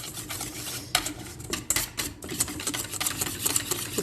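A spoon stirs cocoa powder with a little milk in a cup, giving continuous clinking and scraping with irregular sharper taps, close and fairly loud, with no talking.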